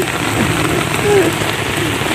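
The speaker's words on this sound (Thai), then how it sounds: "ตกมา 40 กว่านาทีแล้วจ้าฝนนี่ หยดติ้งติ้ง" Steady, loud rain pours down beside a canal during fishing, a dense continuous patter of drops on surfaces close by with no other sounds breaking through.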